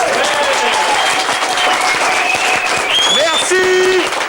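A studio audience applauding on a French television show, sustained clapping heard together with music and some voices.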